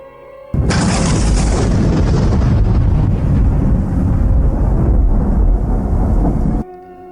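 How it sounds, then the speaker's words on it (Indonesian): A loud, sustained rumbling roar begins abruptly and rolls on for several seconds, dense and booming, then cuts off: thunder from lightning striking a pine tree close to a house. "petir menyambar salah satu pohon pinus yang ada di dekat rumah kami"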